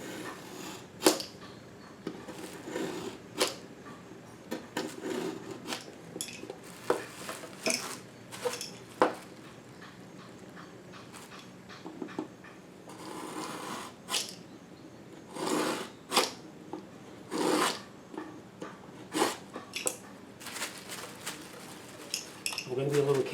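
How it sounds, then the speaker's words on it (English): Drywall being cut around a light switch box in a wall, giving close, irregular scratchy rasps and sharp clicks in short uneven bursts, with quiet pauses between strokes. "we're just going to cut the sheetrock a little bit"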